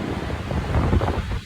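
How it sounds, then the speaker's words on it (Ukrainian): Sea waves at Svetlogorsk on a cold, sunny day: a steady, loud roar of surf mixed with wind rushing over the microphone, continuous and without speech. "Наконець-то сонце, море. Обожаю покататися на волнах."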